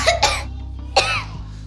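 A child coughs up close: two quick harsh coughs, a short pause, then one more cough followed by a faint throaty sound.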